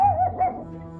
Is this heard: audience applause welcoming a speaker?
no